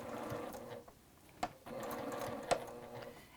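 A sewing machine back stitching a quarter-inch seam in orange thread for a fabric trinket tray, running in a steady quiet whir with two brief clicks as it stops and restarts.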